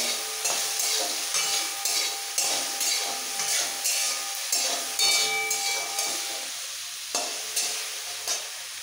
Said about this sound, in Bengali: হালকা ভেজে নেবো, খুব বেশি ভাজবো না, যেহেতু এটা তরকারি হবে।